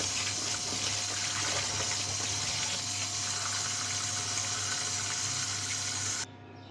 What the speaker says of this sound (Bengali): এখন আমি ভালো করে এখন ভালো করে ধুয়ে নেব।